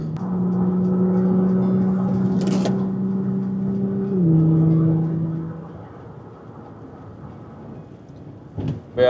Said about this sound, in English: As you guys can hear, the car sounds really good.